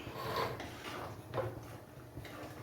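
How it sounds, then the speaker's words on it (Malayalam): Chicken curry being stirred in a pot, with faint repeated scraping strokes of a spoon against the vessel over a low steady background, soft and close, no talking. "ഒന്നും കൂടെ ഇളക്കിയിട്ട് കൊടുക്കാം."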